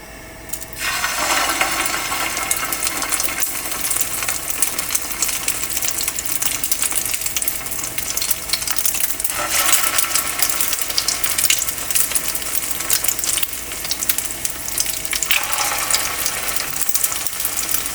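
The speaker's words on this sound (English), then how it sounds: "So now we're going to fry our chicken shami kababs in oil. It's going to be a shallow fry." Chicken shami kababs, some coated in egg, shallow frying in oil make a steady, close sizzle and crackle that holds level throughout, with brief brighter bursts of spitting; no voices.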